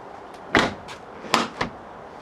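A Fiat Panda 4x4 door with badly set hinges is shut, giving a couple of close thuds and clunks followed by a smaller rattle.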